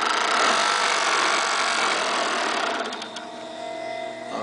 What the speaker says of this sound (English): right now we show you that stitches on the machine on a very difficult fabric with a cotton thread